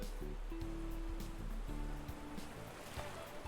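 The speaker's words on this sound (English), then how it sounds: "The sound of the waves rolling onto the shore is like a lullaby." Ocean waves roll onto a shore in the Please Be Happy video game, a soft steady surf wash under gentle tonal music notes.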